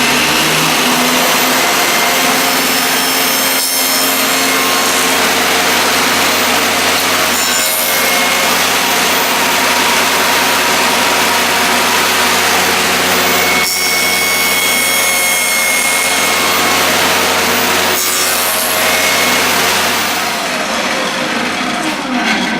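Power saw cutting through wood to shape a beehive insulated winter inner cover, a loud continuous whining cut with a few brief dips as the board is repositioned and passed through again, no talking.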